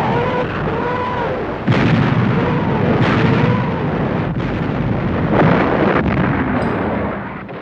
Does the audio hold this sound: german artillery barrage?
yes